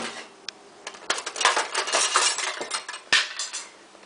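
Dry couscous poured into a pan, a scattered rattle of light grainy ticks and clinks that swells in the middle and fades, with a few sharper knocks, close and alone.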